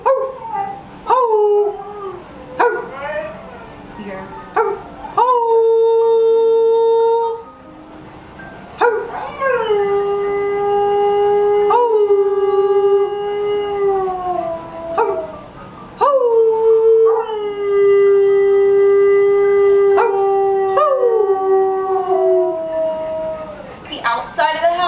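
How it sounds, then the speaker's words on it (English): A dog in a bandana howls repeatedly at close range, a series of long wavering howls broken by short yips and pauses, with a person speaking briefly between them. "You wanna hear him howl?"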